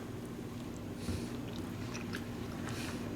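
Biting and chewing an English muffin mini pizza: close, quiet crunchy bites and moist chewing repeat over a faint steady hum, with no talking.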